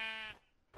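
A sheep in the video game Minecraft lets out one loud, harmonic bleat up close, followed by a brief quiet gap and the start of a second sound.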